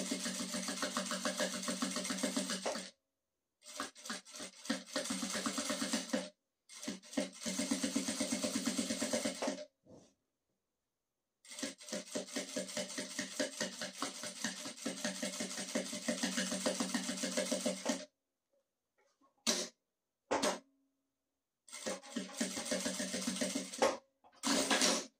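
A sewing machine stitches a plasticized toiletry case in bursts of rapid mechanical clatter, several runs of a few seconds each, separated by short pauses, heard close and alone.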